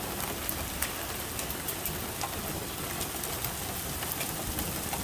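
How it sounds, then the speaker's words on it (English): Hail falling outdoors, a dense, even hiss of impacts with scattered sharper ticks, continuous and fairly loud throughout. "Oh yeah, you can hear the hail."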